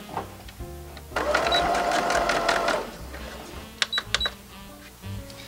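A sewing machine stitches half-inch bias binding onto fabric in one steady whirring run of about a second and a half, followed by a few short, quick bursts of stitching up close.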